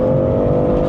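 A BMW M340i petrol engine pulls hard in third gear, a loud steady drone holding close and constant from an in-cabin view, with no voices over it.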